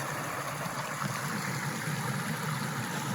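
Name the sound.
winter backyard pond waterfall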